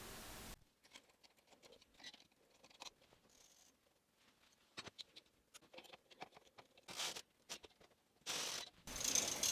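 A Brother knitting machine carriage knits a plain row of worsted weight yarn at tension 6, giving faint scattered clicks and ratcheting rattles that build into louder mechanical bursts near the end.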